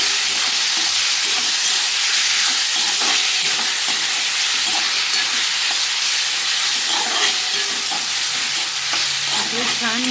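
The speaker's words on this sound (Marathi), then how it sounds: "चला तर कांदा भाजलेला आहे, त्याच्यामध्ये आपण टाकू भोपळा शिजवून घेतलेला" Cooked pumpkin fries with roasted onion in a pan, giving a steady, loud sizzle with stirring scrapes and crackles throughout, close up and without talk.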